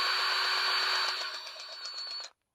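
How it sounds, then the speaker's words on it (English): Milwaukee battery-powered grease gun being primed on an excavator, a steady high-pitched motor whine that runs continuously for about two seconds and then cuts off abruptly. "now we have to prime the Milwaukee battery powered grease gun"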